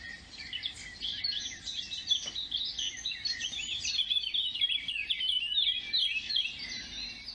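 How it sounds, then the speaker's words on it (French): Bright, rapid warbling birdsong of a Eurasian blackcap pours out continuously, fairly close, over quiet woodland ambience with no voices. "Déjà, on entend siffler la fauvette à tête noire."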